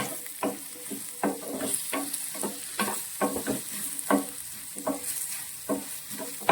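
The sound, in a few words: green chillies, onion, ginger and garlic sautéing in a pan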